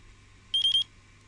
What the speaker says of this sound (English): It's now beeping away